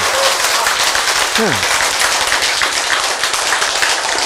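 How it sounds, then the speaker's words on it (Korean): Loud, continuous audience applause in a lecture hall, a dense even roar of clapping with a brief vocal whoop partway through. "박수."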